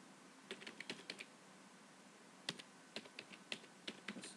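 A computer keyboard clatters as a change-directory command is typed, two short bursts of crisp, close keystrokes separated by a pause, with no voices.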